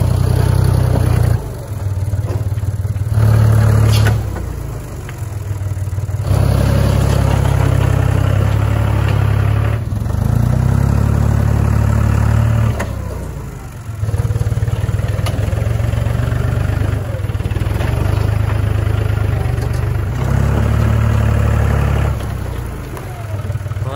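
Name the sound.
tractor engine running while scraping yard dirt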